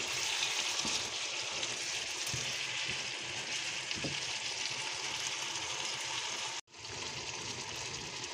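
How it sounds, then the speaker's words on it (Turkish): Meat and mushrooms sautéing in a pan with black pepper, cumin, thyme and salt, giving a steady close crackling sizzle with a few stirring knocks and a brief break before the frying resumes. "Ondan sonra bir güzel kavurmaya devam ediyoruz."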